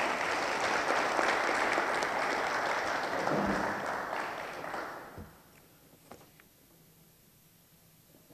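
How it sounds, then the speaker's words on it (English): A crowd claps steadily at a petroleum agreement signing in Ghana, then the applause thins and fades out over a few seconds, leaving a quiet room with a few faint knocks. "I think he deserves another round of applause."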